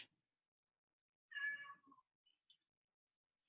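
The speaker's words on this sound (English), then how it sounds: "Cats are mad this morning. I don't know if you can hear them." Cats meow in a quiet room, giving one clear, fairly close mew followed by a couple of faint short chirps, with near silence between.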